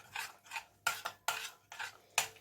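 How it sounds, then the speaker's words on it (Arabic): A spoon scrapes and clinks around a bowl of shish tawook chicken marinade in six quick, close stirring strokes, each a short bright scrape with no talking. "نبدا بقى نقلبها كلها كده في بعضها"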